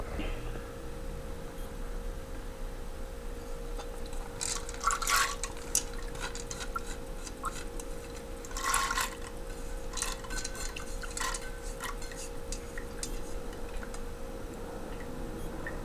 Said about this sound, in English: So now I wash the peas and I'm gonna throw it in